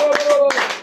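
A church congregation claps in a few loud, spaced bursts while a voice carries on over the clapping.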